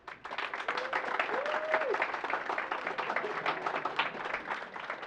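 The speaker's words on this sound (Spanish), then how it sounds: "Y también otro aplauso" Audience applause at a university photography exhibition event, dense steady clapping from a crowd filling the clip, with a brief voice sounding faintly underneath.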